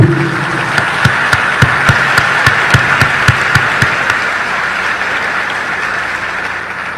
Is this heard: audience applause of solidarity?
yes